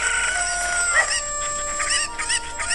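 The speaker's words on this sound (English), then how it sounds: "They're cuckoos." Cuckoo chickens from the video game Zelda: Ocarina of Time, clucking and squawking loudly and continuously in several overlapping calls, close and clear, with no talking.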